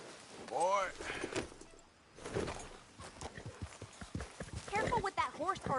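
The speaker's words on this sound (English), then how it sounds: "Careful with that horse, Arthur." Horse hooves clip-clop at a steady walking pace in a video game, mixed with a snort and a voice talking over them.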